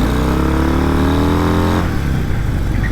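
A Harley-Davidson Breakout motorcycle engine revs loud and close, a deep throbbing rumble climbing in pitch then dropping back to a lumpy idle.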